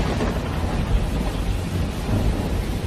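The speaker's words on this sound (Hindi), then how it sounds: "वो दोनों गाड़ी में बैठने ही वाले थे कि अचानक मूसलाधार बारिश शुरू हो गई" Torrential downpour with thunder, a dense continuous roar of heavy rain and low rumbling thunder swelling at moments, loud and close with no voices.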